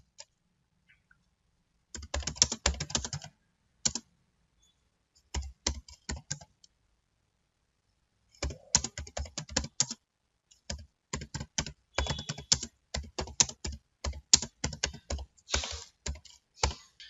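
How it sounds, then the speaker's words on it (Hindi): Close, crisp keystrokes on a computer keyboard while text is entered in the vi editor, fast bursts of clicks broken by short pauses, with no speech. "अब यहां मैं कुछ भी टाइप करूंगा"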